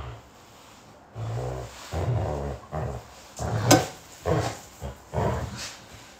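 A small dog makes a series of short growling, grumbling vocal bursts in close succession, fairly near and moderately loud, with brief pauses between them indoors.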